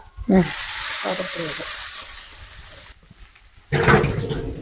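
Chopped cluster beans dropped into hot oil at home, a loud hiss of frying bursting up and holding, then fading, with a brief second surge near the end and some voices under it.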